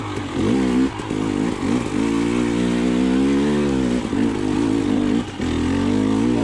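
A KTM TPI two-stroke enduro motorcycle engine putters and revs close by at low speed while the bike is ridden, its pitch rising and falling through the throttle.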